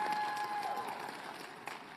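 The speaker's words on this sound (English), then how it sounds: "Give them a round of applause" Audience applause at a business forum, with steady clapping from a crowd filling the room at moderate level and fading slightly toward the end.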